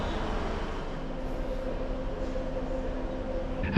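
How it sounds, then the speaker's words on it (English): Two-car Class 150 diesel multiple unit arriving at a Welsh station, a steady low rumble with a faint engine hum and rolling wheel noise, moderately close and without talk. "And here comes our train, and it is a little 2-car Class 150 unit."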